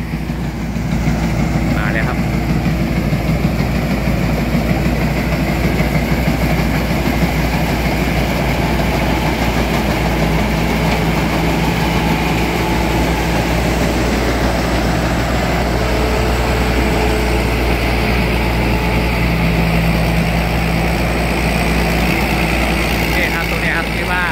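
A combine harvester engine drones steadily and loudly throughout while harvesting rice, a constant low rumble with no breaks.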